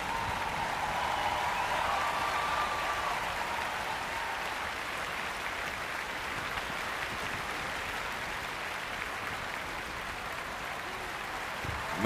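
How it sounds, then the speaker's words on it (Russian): Sustained audience applause for Mireille Mathieu at the Spasskaya Tower festival in Moscow, a steady wash of clapping from a large crowd with faint tonal sound underneath. "Мы провожаем Mireille Mathieu бурными аплодисментами"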